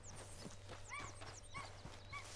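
Wild horses in the video game Red Dead Redemption 2 clip-clop along in an uneven rhythm and let out several faint, high whinnies. The sounds are fairly quiet, with no talking.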